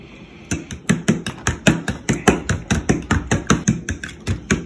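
Eggs and milk whisked in a bowl give fast, even clacking strokes, about twenty sharp knocks in a steady rhythm, close and loud with no talk.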